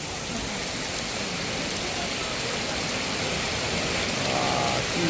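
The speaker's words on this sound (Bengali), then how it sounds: "কি বৃষ্টি হচ্ছে।" Heavy evening rain pours down steadily in West Bengal, a dense unbroken hiss that fills the whole clip at constant loudness, close and alone with no voices.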